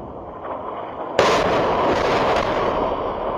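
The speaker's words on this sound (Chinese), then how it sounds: "以色列边境的摄影机被爆炸震撼如地震" Airstrike explosions near the Israel–Lebanon border, captured in news footage: a sudden loud blast followed by sustained rumbling roar and crackling, with smaller bursts continuing behind it.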